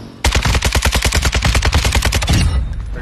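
Automatic gunfire in the Call of Duty Warzone video game, one loud sustained burst of rapid evenly spaced shots lasting over two seconds, close and dominant before it cuts off.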